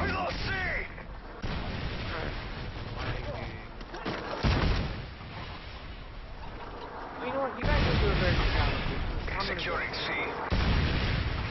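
Gunfire and explosive bursts in a Call of Duty match using a CM901 rifle on the Village map, loud and dense throughout, with players talking over the shooting.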